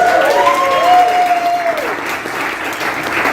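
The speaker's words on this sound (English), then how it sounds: "Give him a round of applause." Audience applause fills an improv beginners class graduation show, steady and full from the start and easing slightly toward the end, with a bright whistle-like cheer rising above the clapping early on.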